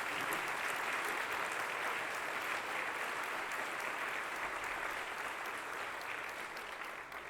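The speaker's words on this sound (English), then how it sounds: "please give our wonderful executive director and staff a round of applause" A dense, steady wash of audience applause for an executive director and staff at an Amistad 50th anniversary event, continuous for several seconds and easing slightly toward the end, with no talk over it.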